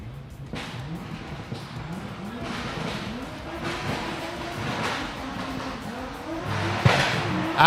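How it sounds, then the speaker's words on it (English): A Nissan S14 drift car runs a solo bye lap at a Drift Kings Asia round in Malaysia, a continuous loud engine roar rising and holding with faint tire squeal and crowd noise. "here comes Admiral Talfek in his S14 doing a bye run just for fun"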